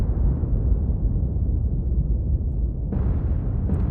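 Deep rumbling blast of a detonation beneath an enemy ship in a naval war game, a long low roar that fades, then a sharper second burst near the end.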